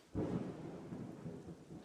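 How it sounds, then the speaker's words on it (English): Thunder from an approaching storm front in open Oregon country: a sharp crack, then a long, deep, rolling rumble carrying on in the distance with faint rain noise, no voices. "suddenly you got a storm front coming in"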